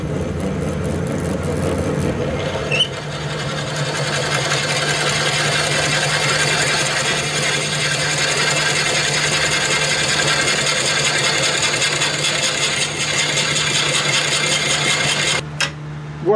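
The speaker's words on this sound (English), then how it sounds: "Now when drilling, slow down the lathe." Wood being drilled on a slowed-down woodturning lathe before a live audience, a continuous whirring, rasping grind with a steady motor hum, loud and unbroken for the full stretch, with a couple of sharp knocks near the end.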